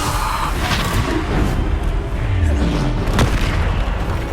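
A Bombarda spell goes off during a trial in the Hogwarts Legacy video game on PC. It sounds like loud, booming blasts over a constant rumble of combat noise, with a sharp crack near the end.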